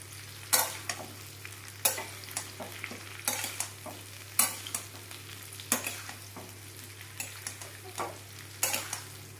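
Raw mango pieces stir-fried in a pan for a sweet, sour and spicy pickle: a spatula scrapes through them in regular strokes about once a second, each with a short clatter over a soft, steady sizzle.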